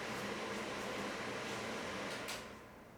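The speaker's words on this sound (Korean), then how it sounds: "이거 에어컨 좀 끄자. 소리가" A hotel room air conditioner in Varadero, Cuba, gives a steady, faint broadband hiss and hum that drops off noticeably near the end.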